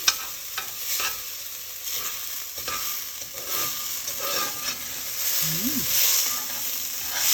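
Garlic and ginger fry in hot oil while being stirred, a steady sizzle running throughout with scattered scraping strokes from the utensil. The sizzle is close and moderately loud, with no voices.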